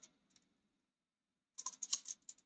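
Quiet clicking on a computer keyboard: a few light keystrokes, a pause, then a quick run of keypresses, faint and close with no voice over it.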